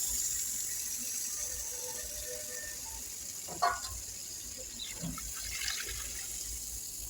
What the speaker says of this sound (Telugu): నీళ్ళు వేసుకుని